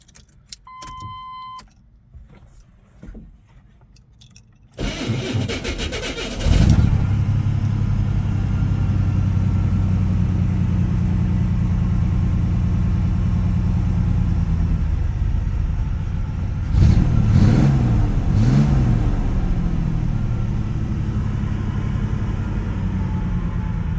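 A 1989 Chevrolet S10 pickup engine starts after a few seconds of quiet and key sounds, then idles steadily with a loud, close, low rumble, briefly revving around the seventeen-second mark.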